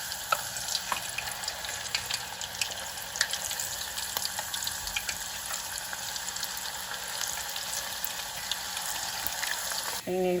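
Plantain slices with their skins on fry in hot oil, a steady soft sizzle and crackle with scattered pops, fairly quiet and continuous, ending with a brief clatter.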